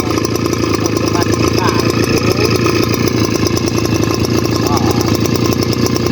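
A small petrol engine on a rice seed sprayer starts and runs steadily at close range, a continuous buzzing drone throughout with people talking over it.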